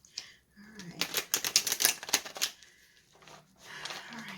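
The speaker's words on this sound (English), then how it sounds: "that's just a little pre-shuffle" A tarot deck is shuffled by hand in a quick pre-shuffle, giving a dense run of close, crisp riffling card flutters in the middle, with softer card handling before and after and no talk.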